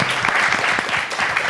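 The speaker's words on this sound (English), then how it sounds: "Round of applause." Audience applause after a panel at a blockchain summit at SXSW, dense continuous clapping from a crowd, fairly loud and even throughout the short stretch.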